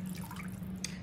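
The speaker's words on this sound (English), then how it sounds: "And I'm just gonna just pour it over in there." Liquid poured into a cooking pot of Southern parboiled rice, a steady close-up trickle and splash running continuously with one brighter drip-like splash near the end.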